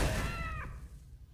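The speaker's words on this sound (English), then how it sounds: "Did that thing just meow?" A cartoon creature from Amphibia lets out a short meow-like cry with wavering tonal harmonics, lasting about half a second before fading under steady low background rumble.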